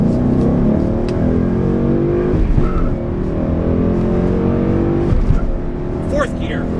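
A 2012 Ford Mustang GT 5.0 California Special with traction control off accelerates hard, its engine note loud and close throughout, rising and dropping with each gear change, with a person talking over it.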